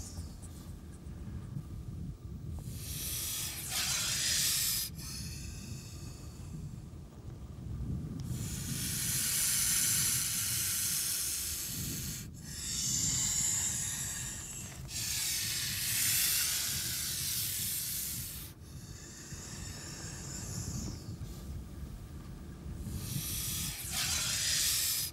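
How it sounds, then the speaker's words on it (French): A horned viper gives long, loud bursts of hissing in repeated waves with short pauses between them, close by. "le fennec a entendu le sifflement du serpent."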